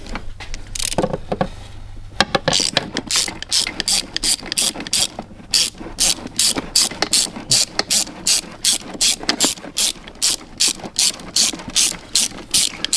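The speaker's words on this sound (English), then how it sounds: "I'm just going to keep spinning this until I know that I've got that bolt backed out all the way" Ratchet backing a bolt out of a TR3160 transmission on a Dark Horse Mustang, a long run of rapid, evenly spaced metallic clicks, close and loud, after a brief quieter start, with no talking.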